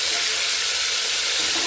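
Chicken pieces hitting a hot pan, a steady, bright sizzle of frying that holds evenly throughout, close and loud.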